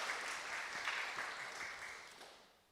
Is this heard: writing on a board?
no